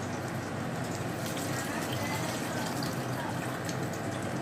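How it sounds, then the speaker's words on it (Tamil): Tamarind water is poured into a simmering eggplant curry in a cooking pot, giving a steady, even rush of liquid throughout at moderate volume. "புளி தண்ணியை சேர்த்துட்டோம்."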